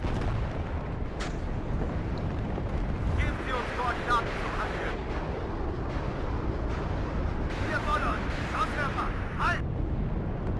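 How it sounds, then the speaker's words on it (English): A cluster artillery strike in the strategy game WARNO, a rumbling wash of many overlapping blasts and crackling impacts that swells and fades, with someone talking over it. "Oh, the cluster artillery!"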